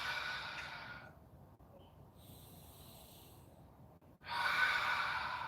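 A forceful exhale during an at-home strength and stretching workout: two loud breathy rushes of air, near and close to the microphone, separated by a quieter pause.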